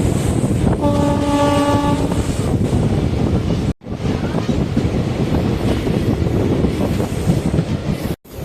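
A train at Pavoor Chathiram railway station sounds a sustained horn over loud rumbling rail noise and heavy wind buffeting, with a couple of brief dropouts.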